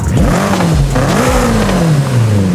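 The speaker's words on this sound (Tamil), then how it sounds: "ஸ்டார்ட் பண்ணிக்கலாம் காரோட சவுண்ட் கேளுங்க" A car engine in the video game Forza Horizon 5 revs loudly and steadily, its pitch rising and falling as the throttle is worked, with no voices.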